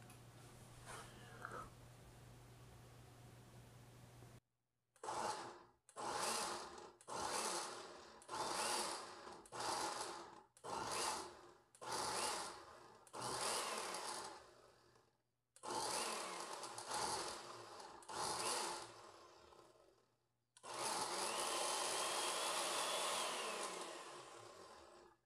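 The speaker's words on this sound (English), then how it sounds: "It's in the blender." A blender purees cauliflower soup in a series of about ten short pulses with pauses between, then runs in one longer, steady whir, loud and close.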